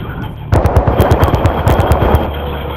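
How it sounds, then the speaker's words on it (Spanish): Rapid automatic gunfire from a video game firefight, loud bursts of repeated shots starting abruptly and continuing steadily to the end, with no talk over it. "Me están cogiendo a tiros."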